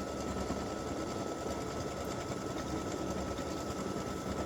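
An embroidery machine stitching a mug rug hums with a steady, dense mechanical chatter, its needle running continuously and evenly, close by and alone, no voices.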